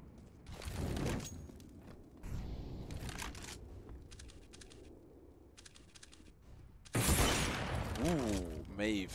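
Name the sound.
AWP sniper rifle gunfire in CS:GO video game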